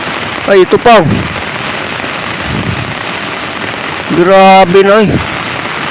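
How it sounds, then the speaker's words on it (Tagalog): Rushing flood water pours steadily through a barangay during heavy flooding, a constant broadband wash heard throughout, with a voice speaking over it in two short bursts. "Bilis talaga ng takbo ng tubig"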